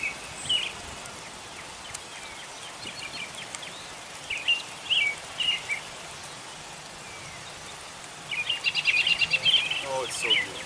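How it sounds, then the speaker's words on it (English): Birds chirp and twitter in scattered bursts over a soft outdoor hiss, with a busier run of quick notes near the end. "but listen to the birds."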